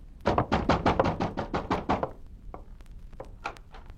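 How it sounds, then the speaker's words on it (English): Fast, heavy pounding on a door, a quick run of about nine loud knocks, then a few scattered fainter taps. "pounding on the door"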